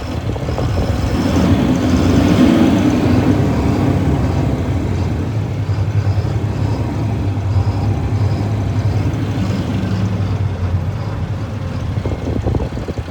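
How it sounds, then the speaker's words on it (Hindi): A steady, low diesel engine rumble of an idling Mahindra Blazo i-TRK 55 truck nearby runs throughout, with no voices over it. "गाड़ी के इंजन की साउंड हो सकता है मैं आपको सुनाता हूँ एक बार वापस से, ये सुनिए।"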